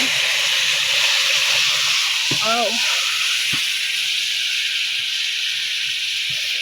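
Hot water poured into dark, caramelizing sugar for Sri Lankan New Year weli thalapa gives a loud, steady steam hiss that runs the whole way through, with a brief bubbling burst partway in.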